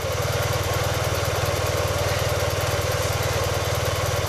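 A carbureted motorcycle engine idles steadily outdoors while warming up for a carb sync, a close, even, throbbing putter holding constant for the whole stretch with no voices.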